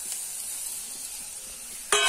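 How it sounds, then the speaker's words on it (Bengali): Mung dal and potatoes frying in hot oil, a steady close sizzle that flares up sharply near the end as more dal hits the pan. "মুগ ডালটাকে ভেজে নেবো এখানে আলুর মধ্যে দিয়ে।"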